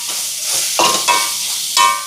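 Vegetables sauté in a hot pan with ground pepper as a spoon stirs them, making loud scraping strokes roughly every half second over a constant close sizzle.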